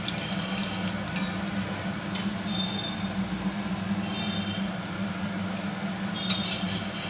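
Bay leaves and cumin seeds temper in hot oil left from frying, giving a steady low sizzle with occasional light clinks of a utensil against the pan.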